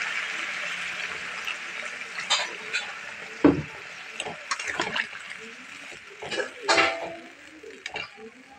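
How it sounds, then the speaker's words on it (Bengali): Hot water is poured into a simmering Bengali fish curry in a pot, a steady hiss broken by scattered clinks of a utensil against metal, while someone talks. "এখানে আমি গরম জল দেবো।"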